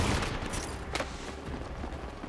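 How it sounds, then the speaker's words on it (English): Gunfire in the shooter game Apex Legends, a dense continuous rattle of shots with one sharper crack standing out near the middle, fairly close and steady throughout. "Someone shooting at me?"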